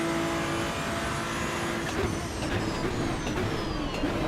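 Racing car engine in the Assetto Corsa Evo racing game dropping through a downshift, a steady loud engine drone with brief blips and pitch shifts, no talk over it.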